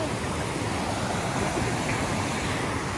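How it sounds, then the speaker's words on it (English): Creek water flowing, a steady broad rushing babble, close and even, with no pauses. "I'm gonna go down to the creek"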